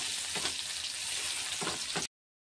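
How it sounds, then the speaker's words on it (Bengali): Prawns and large-cut capsicum sizzle steadily in a frying pan as a spoon stirs them, with a few scraping strokes over the hiss; no talking, and the sound cuts off abruptly. "ক্যাপসিকাম বড় বড় করে কাটা দিয়ে সব ভালো করে একটু নেড়ে নেব"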